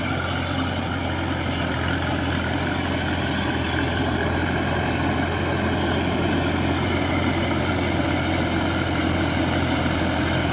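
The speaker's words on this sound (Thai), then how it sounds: "รอบเครื่องยนต์เดินเบาครับ นิ่มๆ เดินนิ่มๆครับ" A Hino 21C diesel engine rated around 320 horsepower idles smoothly on a rotary tiller rig in a flooded rice field, a steady, loud, continuous low rumble that holds unchanged throughout with no talking.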